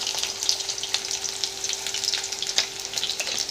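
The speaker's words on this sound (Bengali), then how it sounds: "আলুগুলো ভাজা হয়ে এসেছে দেখুন।" Potatoes frying in a pan, a steady bright crackling sizzle with small pops throughout, close and alone with no talking.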